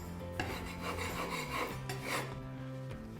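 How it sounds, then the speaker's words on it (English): Loose plaster being scraped off an internal wall, a continuous close rasping scrape with uneven strokes and a faint steady hum underneath. "Scrape the area of any loose material."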